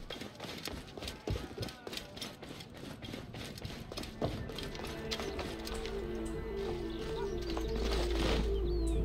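Horse hooves clip-clopping in the video game Assassin's Creed Origins, a rapid rhythmic galloping patter with clattering mechanical game sounds, a low rumble building underneath toward the end.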